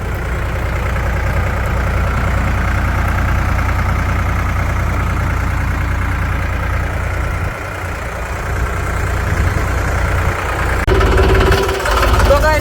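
A tractor engine runs loudly and steadily up close after ridging a groundnut field, a deep continuous chugging rumble that rises slightly near the end.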